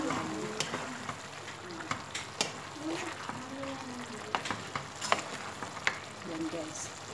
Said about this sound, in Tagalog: Haluin muna natin siya guys ng konti.